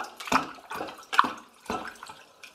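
Water splashing as straws are pushed around in a container of water, a few distinct close sloshes and plops in an irregular rhythm, with no talking.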